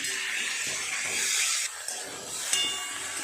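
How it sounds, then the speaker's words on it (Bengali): Sweet potato, taro and potato frying in a hot pan produce a steady, loud, bright hiss of sizzling oil that runs continuously, with brief dips and small spikes as the pieces shift. "নেড়ে চেড়ে ভালো করে সবজিগুলো আগে ভেজে নেব"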